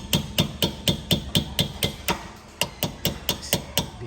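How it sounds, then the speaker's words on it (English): Repeated sharp metallic taps on a long Allen key driving out a brake caliper pin on a Porsche Cayman/Boxster 987, about a dozen close, evenly spaced strikes with a short pause midway. "I just have an Allen key that is longer that can reach through there further, and I just tap on it to get this removed."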